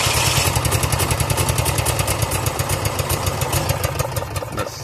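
An Onan 4000 generator engine, just repaired, runs steadily up close with a rhythmic, chugging idle and a rapid regular pulse throughout, no voices.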